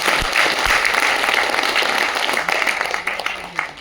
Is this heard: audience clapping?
yes